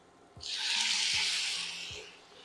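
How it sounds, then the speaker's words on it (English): White wine is poured into a hot pan where sun-dried tomatoes have cooked down, making a close, steady hissing sizzle that swells and then fades over about two seconds, with a few soft knocks beneath it. "Now that the sun-dried tomatoes have cooked down, I'm going to add some white wine."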